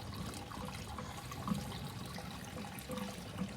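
Gasoline pouring into the fuel tank of a 1965 Ford Ranchero makes a continuous, close liquid rush and gurgle at a steady level throughout, with small splashes rising above it.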